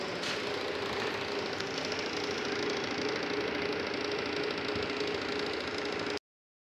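A delivery vehicle's mid-pitched engine runs steadily with a faint rattle as it arrives carrying a batasa making machine, holding a constant drone close by before cutting off abruptly.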